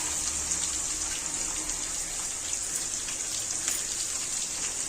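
Onions and curry leaves sizzle steadily in hot oil in a pan, a continuous close hiss with a dense crackle that holds without pause and with no voices.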